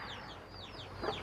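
Chickens cluck faintly in the background at a rural home in Thailand, with short repeated calls over a steady low hum.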